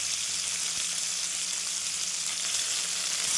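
Onion and tomato frying in hot oil in a pan, a steady bright sizzle that holds level throughout, close and alone with no talking.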